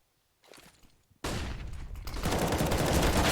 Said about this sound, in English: It's Alexi B at the back with the MP9 who gets the kill